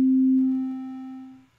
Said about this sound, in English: That should be our sine wave, rather.